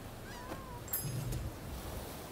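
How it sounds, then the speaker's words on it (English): In the video game Rise of the Ronin, a cat lets out a short, fairly faint meow over a steady background hum. "This is probably one of them cats that's gonna get startled if I'm not careful though."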